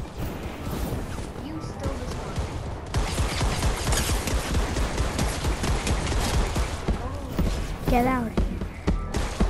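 Gunfire in the video game Fortnite, rapid bursts of shots and thuds packed densely through most of the stretch, loud and close, with a player speaking briefly over it.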